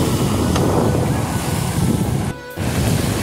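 Ocean surf at a beach in Porto de Galinhas, Brazil, a loud continuous wash of breaking waves mixed with wind buffeting the microphone, with a brief dip partway through.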